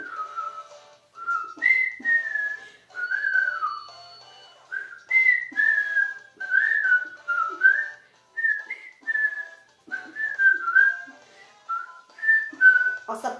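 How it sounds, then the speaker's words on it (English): A person whistles a meandering tune, short melodic phrases with brief pauses between, close and clear with no other sounds. "I'll stop the whistling."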